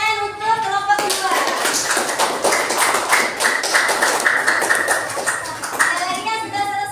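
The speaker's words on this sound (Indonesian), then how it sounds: "tepuk tangan untuk kelompok 2" Classroom applause for a student group after their fruit soup presentation, with many hands clapping steadily and fairly close, preceded by a brief moment of speech and room noise.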